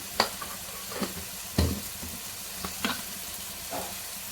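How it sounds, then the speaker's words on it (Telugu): Ridge gourd sizzles in a pan as chili powder is stirred in for a Telugu-style curry, a constant frying hiss broken by several distinct scraping stirs of the spoon, close and clear. "బీరకాయ మంచిగా వేగింది కదా, ఇప్పుడు కారం వేద్దాం"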